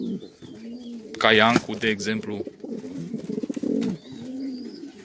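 Hunter pigeons cooing, several soft throaty coos rising and falling in bursts, close and moderately loud, with someone speaking over part of it.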